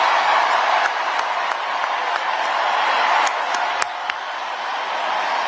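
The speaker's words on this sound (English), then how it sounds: "Big applause. Big applause." Steady crowd applause at a political rally fills the space, dense and continuous with a few sharper individual claps standing out, no pause throughout.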